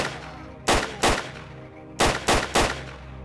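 Gunfire in the first-person shooter STALKER: Call of Pripyat, five loud sharp shots: two close together, a pause, then three more in quick succession.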